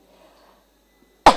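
A single sudden sneeze bursts out near the end after a stretch of near silence, loud and close.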